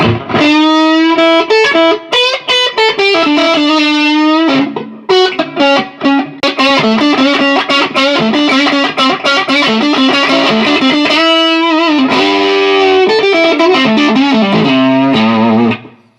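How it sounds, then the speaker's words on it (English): An electric guitar plays loud, continuous chords and riffs through a gritty boost distortion patch on a Line 6 Helix, with brief pauses between phrases. "this one is just a boost, kind of a distortion"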